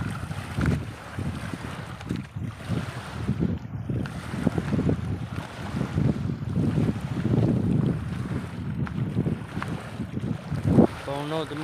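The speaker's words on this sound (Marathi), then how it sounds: "पाणी पण लाटा मारते जोरजोरात." Choppy river water slapping and splashing under strong wind, with heavy gusts buffeting the microphone in low rumbling bursts throughout, continuous and fairly loud, no clear talk.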